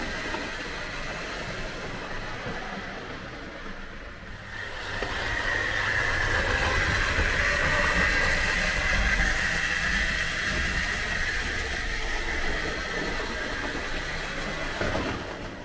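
Two Hornby model GWR pannier tank locomotives double-heading a train on a model railway, giving a steady whirring rumble of motors and wheels on track that swells louder midway and carries on without speech.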